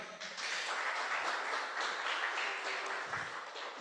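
Church congregation applauding together after a sermon, a sustained, steady wash of many hands clapping at moderate distance for several seconds with no talk over it.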